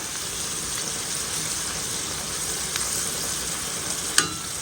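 Chicken thighs cooking in a pan with a splash of water, sizzling steadily and loudly up close while being stirred, a sharp utensil tap near the end, no voices.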